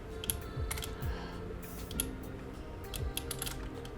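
Computer keyboard keys tapped in short irregular bursts while entering game code for a Unity 2D platformer, close and fairly quiet with faint background hum, no talking.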